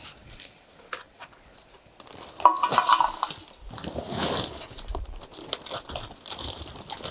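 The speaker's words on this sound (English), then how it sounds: "now we're just gonna add our soil and get our strawberries in there" Organic potting soil mix is poured and pressed into a strawberry container, giving soft crumbly rustles and scrapes that grow louder and busier partway through, close up with no talking.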